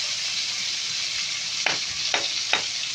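Onions fry in a hot pan with a loud, dense, continuous sizzle, close up. A few quick scrapes from a stirring utensil break through near the end.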